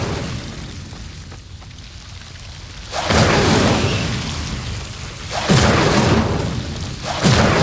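A fire spell cast in Hogwarts Legacy: loud, broad whooshing bursts of flame roar in about three separate surges, each swelling quickly and then trailing off, with no talk.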